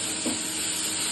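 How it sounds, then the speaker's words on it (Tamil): Ginger and garlic sautéing in hot oil give off a steady, close sizzle with a soft hiss that runs through the whole short moment. "அதையும் போட்டு நல்லா எண்ணெயில் வதக்கிடலாம்."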